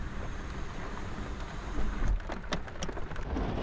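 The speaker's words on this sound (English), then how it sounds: "it started to rain" Heavy rain pours down while someone sits inside a car, a constant dense drumming hiss with louder patters and a low rumble, close and continuous throughout.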